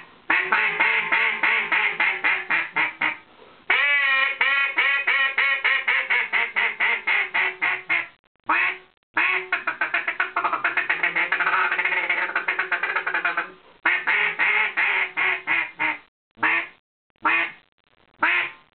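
A duck call for waterfowl hunting blows long runs of rapid raspy quacks, loud and close, with short pauses between series and a few single quacks near the end.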